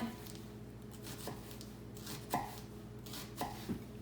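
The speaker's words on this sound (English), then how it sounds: "Make thin slices, keep your palm flat, and then you cut" A knife slices vegetables thinly on a cutting board in a quiet room, making about four crisp, separate cuts spaced irregularly.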